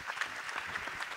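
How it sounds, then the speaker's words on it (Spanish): Audience applause for a guest on a TV set, steady clapping of a modest crowd that fills the short moment without voices on top. "Aplausos para nuestro invitado."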